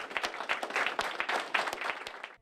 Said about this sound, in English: Applause broke out at the Board of Elections Thursday morning as Sheriff Green was handed his certificate of election.